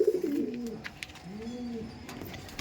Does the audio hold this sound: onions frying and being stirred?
no